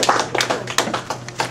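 A small audience claps to welcome a speaker at an evening talk, a brief patter of hand claps at close range, a few distinct slaps standing out over a short burst.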